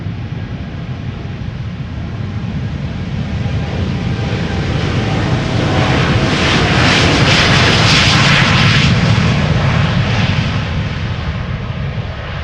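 A KLM Boeing 787-10 Dreamliner, about a year old, departs Amsterdam Schiphol for Toronto. Its loud jet engine roar swells to a rumbling, crackling peak and then eases off slightly, with no voices over it.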